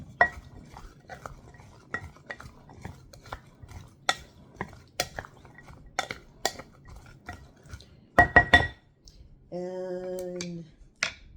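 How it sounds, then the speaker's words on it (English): Salad being mixed in a bowl after a sprinkle of garlic powder: sharp clinks and taps of utensils against the bowl in an irregular rhythm, close and fairly quiet, ending in a short hum. "And she says, give that a mix."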